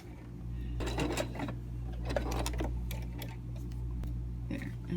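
A sewing machine stitches in the ditch along a cloth face mask seam, a steady whirring motor with a faint mechanical patter running close and fairly loud for several seconds, under a constant low hum.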